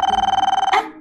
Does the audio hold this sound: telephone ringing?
yes